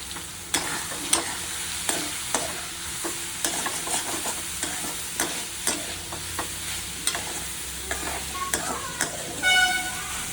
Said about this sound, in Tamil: அப்பப்போ அதை பட்டி விட்டு எண்ணெய் ஊற்றி சவுத்து இது பண்ணிக்கினே இருக்கணும், கலரிக்கினே இருக்கணும்.